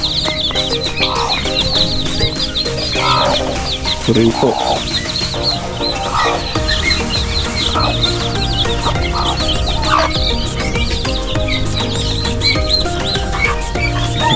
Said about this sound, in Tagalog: Ito, manok na may sisiw